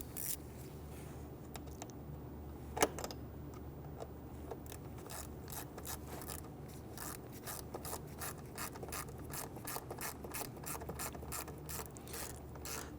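A ratchet clicks steadily as bolts are snugged down on the mass air flow sensor of a 2011-2019 Ford Explorer with the 3.5L V6, a quiet, close, even run of rapid pawl clicks with one sharper knock early on.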